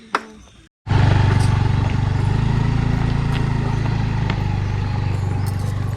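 Car engine rumbling loudly and steadily as it drives ahead over a rough, bumpy village road, with a brief drop to silence just before the sustained drone begins.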